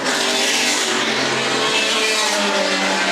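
Historic race cars compete in the Sussex Trophy at Goodwood Revival, a continuous, loud, close engine roar as several cars rev hard past one another.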